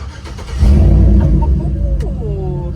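A truck with an LS engine and exhaust stacks rumbles loudly close by, swelling into a brief rev before settling back to a throaty idle, with a bit of background voice early on.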